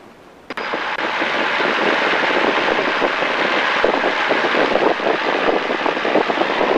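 A small training airplane's engine is run up to full power on a flight lesson, a loud, steady propeller drone that jumps in abruptly after a brief quieter start and holds strong throughout.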